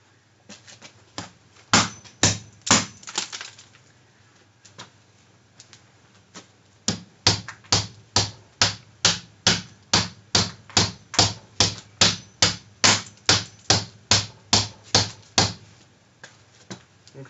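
A hammer strikes a plastic Clarity eyeball-style security camera dome again and again in a vandal-resistance test. A few sharp blows come first, then a brief pause, then a long, steady run of about twenty loud, evenly spaced impacts.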